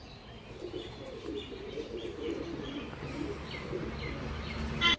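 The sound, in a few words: pigeons cooing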